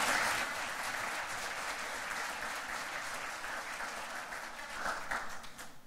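A conference audience at a sustainable tourism session in Aysén, Chile, applauds, sustained, fairly distant clapping from many hands that continues evenly for several seconds, with a slight swell near the end.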